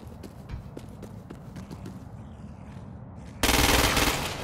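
Gunfire in the Crackdown 2 video game: a dense stream of rapid game shots runs throughout, ending in a loud, sustained burst of fire near the end.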